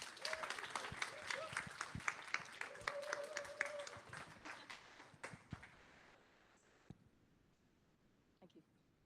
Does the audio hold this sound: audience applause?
yes